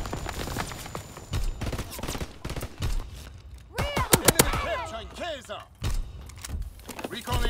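Rapid bursts of gunfire from an aircraft strafing run in the World War II shooter Call of Duty WWII, crackling in dense volleys amid battlefield noise, with radio-style voices calling out between the shots.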